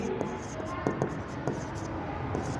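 Pen scratching an amount into a paper journal, soft close scribbling strokes in short bursts over a low room hiss.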